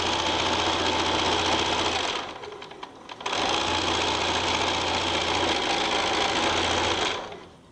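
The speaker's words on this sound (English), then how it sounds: "And then we are going to line up our strip and sew." A sewing machine stitches a quilt strip for a four-patch rocking block quilt, running loud and steady with a brief slowdown and pause partway through before resuming and then stopping.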